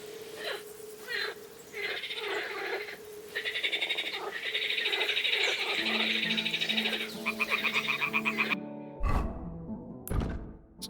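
Near a fallen nest by Zhelejov Inn in Kingdom Come: Deliverance II, toads croak in a busy rhythmic chorus, loud and close, before it breaks off into a few scattered thumps and quieter sounds.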